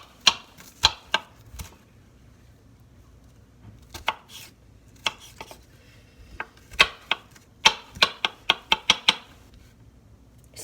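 A knife chops garlic on a cutting board in sharp, irregular bursts of crisp taps, sparse at first, then a quick rhythmic run of close strikes near the end, with no talking.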